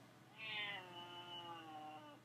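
A cat meows in an anime episode, a long, clear, drawn-out cry of about two seconds, sounding alone with no talk.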